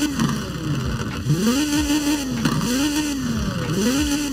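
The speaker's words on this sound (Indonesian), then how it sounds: "Coba kita start up mobil ini." The Peugeot 207 Super 2000 rally car engine in Forza Horizon 4 sits close and loud at a rough idle, revving up and dropping back several times in a rhythmic rise-and-fall whine.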